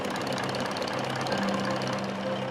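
A massive V8 diesel truck engine in a tiny boat runs steadily and loud, with a dense knocking rumble and a constant low drone throughout.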